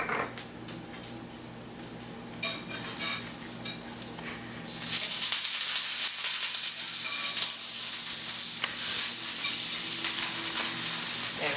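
Butter melting in a hot pan, a soft sizzle that swells into a steady, bright frying hiss about halfway through, with faint clinks of utensils early on and no talking.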